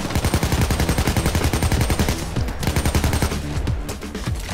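Rapid bursts of gunfire in the heist shooter Payday 2, loud, close and densely repeated, with a brief lull midway before the shots resume.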